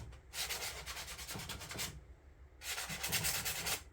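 Hand sanding across a wood and resin surface, two long close strokes of dry, raspy scraping separated by a brief gap.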